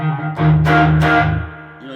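An electric guitar plays through a pedalboard with a simulated, distorted tone at a lowered level: a few strummed chords ring out close and sustained, with a low hum underneath.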